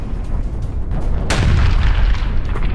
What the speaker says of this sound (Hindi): आप देख सकते हैं कैसे जोरदार धमाका हुआ है